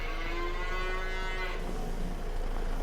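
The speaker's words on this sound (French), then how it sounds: "on sort les vaches, là" Cattle on a farm moo in a long, low, sustained call, fairly close against steady outdoor noise, as about a dozen cows are being let out.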